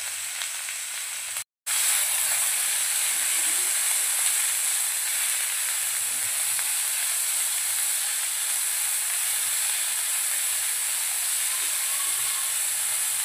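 Chopped onion, capsicum and green chilli fry in a pan with cumin and mustard seeds, a loud, steady close-up hiss and sizzle that cuts out briefly near the start.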